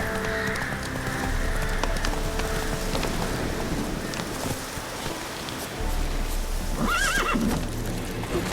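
A horse galloping with rapid, steady hoofbeats, followed by a loud, shrill whinny near the end, all fairly close.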